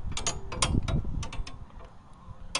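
The gear shift shaft on a Craftsman snowblower shuttles back and forth, giving a quick run of close metallic clicks and ratcheting knocks that thin out toward the end, with no voices.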